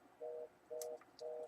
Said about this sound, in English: Sorry about that noise, that's my phone acting silly.